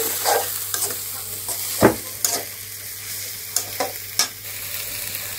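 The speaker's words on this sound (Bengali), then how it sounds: "ভালো করে তেলে ভাজা ভাজা করে কষিয়ে নিব।" Stone-ground onion, chili and garam masala paste sizzles quietly in oil for a chicken korma while a spoon stirs it, with several sharp scraping knocks against the pan over a low continuous fry, nearby, no voices.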